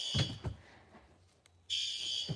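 Fire alarm on a weak, underpowered panel gives a thin, quiet electronic tone that drops out briefly and then resumes steadily, with faint handling noise between.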